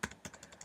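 Computer keyboard keys are pressed in a quick run of about five or six sharp clicks, close and fairly crisp, with no speech.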